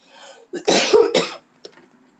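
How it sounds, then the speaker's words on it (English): A person coughs several times in a rough, wet burst, close by, with a short final cough after a brief pause. "One of us is coughing and it ain't me."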